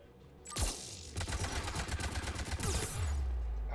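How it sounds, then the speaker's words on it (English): Anti-aircraft guns in Mass Effect 3 open up with a heavy boom, then a rapid run of loud, close rattling shots lasting a few seconds, ending in another deep blast. "AA guns ahead."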